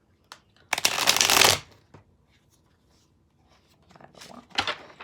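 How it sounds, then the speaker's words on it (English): Rider-Waite tarot cards are riffled and shuffled by hand, one long crisp flurry followed by a few shorter shuffles and soft taps, close and clear with no talk. "but we'll shuffle some more"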